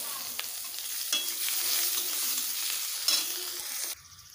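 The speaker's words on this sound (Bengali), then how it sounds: "পেঁয়াজগুলো আমার ভালোভাবে ভেজে নেওয়া হয়ে গেছে" Sliced onions fry in oil with whole garam masala and cumin for an egg curry, making a continuous close sizzle with stirring scrapes that cuts off abruptly near the end.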